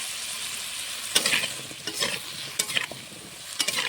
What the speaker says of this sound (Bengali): আস্তে আস্তে জালে কোয়াশ আর আলুটা ভেজে নেব।